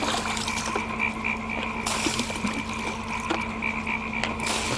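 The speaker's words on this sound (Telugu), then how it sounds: "కప్పల సౌండ్ చూడు, కరకర కరకర అని బేగ బేగ బేగ బేగ బేగ బేగ బేగ అంటున్నాయి కప్పలు" Frogs croak in a dense, continuous chorus at night during heavy rain, with rhythmic ratcheting calls repeating over a steady wet background.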